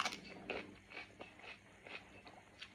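Someone takes faint, close bites of crunchy fruit during a fruit brunch, with a few crisp crunches spaced about half a second apart and some softer chewing between them, and no speech.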